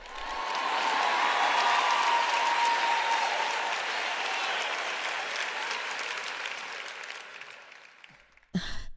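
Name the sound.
audience clapping loudly in church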